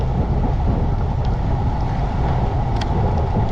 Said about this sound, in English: there's a 12-mile-per-hour wind blowing from the southwest